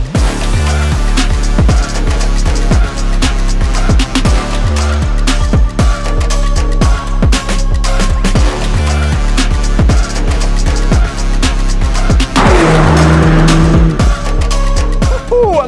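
A Mountune Ford Focus on Michelin Pilot Sport Cup 2 tyres is driven hard around a race track, its engine loud and constant as it revs through gear changes, with brief tyre squeal.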